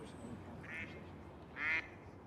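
A duck quacks twice at a pond, two short, faint quacks with the second one louder, set against quiet ambient background.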